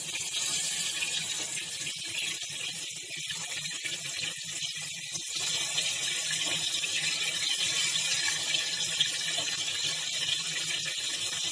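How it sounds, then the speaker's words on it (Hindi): Basa fish pieces dropped into hot mustard oil, a steady broadband hiss of frying that holds throughout at an even level, close and fairly loud with no talking. "ऑयल हो गया है तो हम अब फिश पीसेस डाल रहे हैं इसमें।"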